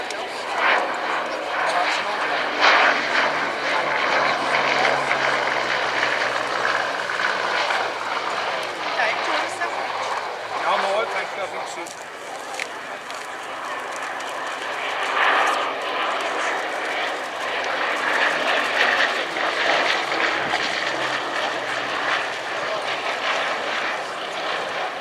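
A Bristol Blenheim flies at an airshow at RAF Cosford, its piston engines giving a steady droning roar that swells and fades as it passes, with a commentator talking over it.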